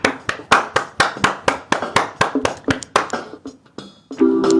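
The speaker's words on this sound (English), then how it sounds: "Let's give her applause." A small group claps in honour of a remembered woman, a loose rhythmic run of fairly close, crisp claps that thins and scatters toward the end, followed by a brief murmur.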